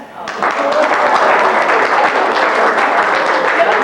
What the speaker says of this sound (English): acknowledge her with applause